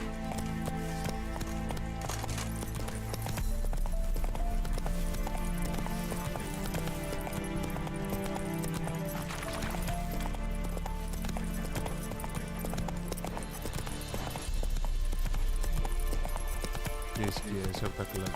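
Horse hooves clip-clop in a steady gallop from The Witcher 3: Wild Hunt, layered under game music and spoken voices throughout.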